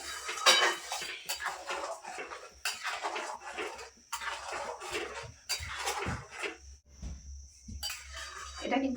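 Metal spoon scraping and clinking against a pot of homemade tomato sauce, repeated strokes in irregular bursts with short pauses, close and moderately loud.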